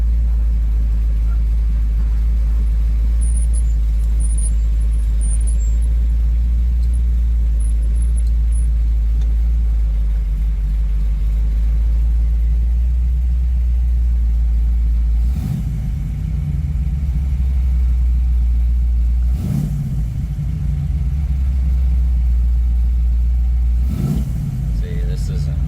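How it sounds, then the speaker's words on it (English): A 1967 Ford Mustang drives along with a steady low engine rumble and road noise, broken by a few louder bumps or surges, while a person talks over it. "Fun driving car."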